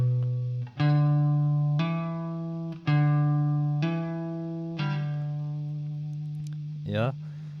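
Slowly played guitar phrase joining a slide, a hammer-on and a pull-off, with distinct sustained notes ringing one after another at an unhurried pace. A brief scraping slide sound comes near the end, with no talking over the notes.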